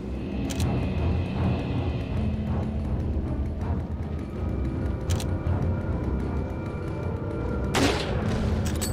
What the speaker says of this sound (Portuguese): Três tiros.